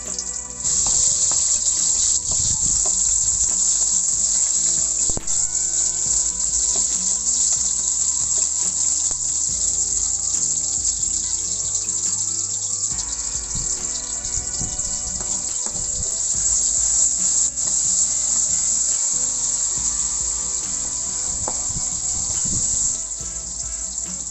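Garlic sizzles in a pan for ginisang kangkong with salted eggs, a steady close crackling hiss that runs unbroken for over twenty seconds, with small pops and clinks mixed in.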